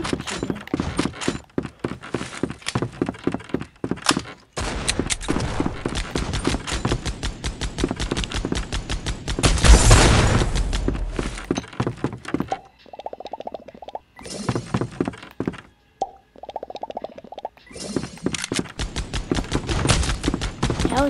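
Gunfire in the building shooter BuildNow GG patters in fast, dense trains of short sharp shots, broken by brief pauses and a louder burst near the middle.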